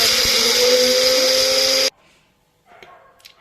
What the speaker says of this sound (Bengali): এই মশলাটা একটু গুঁড়ো করে নেব